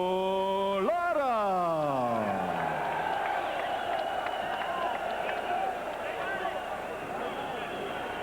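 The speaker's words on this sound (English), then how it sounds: "And a round of applause." Crowd applauding and cheering at a boxing arena after the announced decision in Andrzej Gołota's undefeated win over Nicholson, a steady wash of clapping under a tonal horn-like swoop at the start, with an announcer's voice over it.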